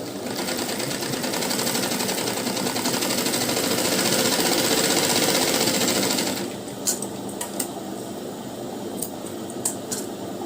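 Sewing machine stitching a lined blouse: a loud, fast, steady mechanical whir for about six seconds, then it stops, leaving quieter handling clicks and taps of the fabric and machine.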